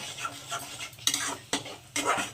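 Spiced masala with salt stir-fried in oil for a taro and shrimp curry, a spoon scraping and clattering around the pan in repeated strokes over a steady close sizzle.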